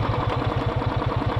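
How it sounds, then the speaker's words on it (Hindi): A motorcycle engine held at steady revs during a burnout, a close, loud and evenly pulsing drone with a rapid regular beat and no voices. "तो इस तरह से होता है बर्नआउट।"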